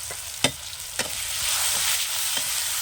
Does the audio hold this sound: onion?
yes